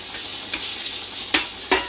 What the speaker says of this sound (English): You hear that sizzle? That's important.